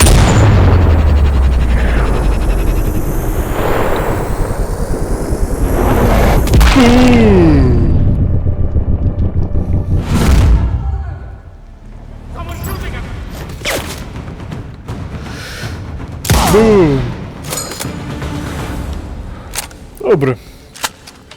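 Sniper rifle shots from Sniper Ghost Warrior Contracts 2, with heavy booming reports and thuds standing out among game sounds, a few sharp shots spaced apart and loud up close.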